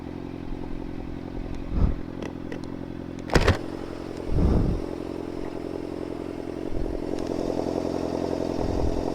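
A motorcycle idles in neutral at night, its low steady engine rumble running throughout, with a few brief clunks and rattles and occasional small swells in the engine note.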